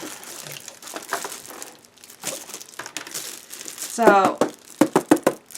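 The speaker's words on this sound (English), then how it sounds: "I just hope I don't accidentally cut the pack, or what's inside of the package." Paper and plastic packaging of a mailed parcel crinkles and tears as it is opened, with a few sharp knocks and rustles near the end, while a person talks throughout.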